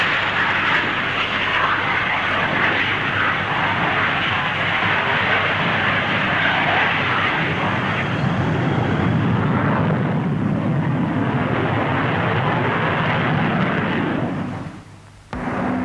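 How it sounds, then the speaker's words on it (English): A Hawker Hunter jet lands at the Farnborough air show using reverse thrust, a loud, steady roar of jet noise that holds for about fourteen seconds and then briefly drops away near the end. "A Hunter demonstrated one method, reverse thrust, a method likely to prove invaluable with civil aircraft too."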